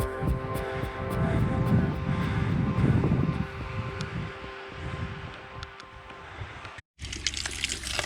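Water runs steadily at a cemetery in Brittany, a continuous rushing gush heard close up and alone, briefly cutting out before resuming.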